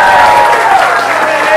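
A room full of people applauds in a municipal council chamber session, dense steady clapping filling the space for a moment, with voices mixed into the crowd noise.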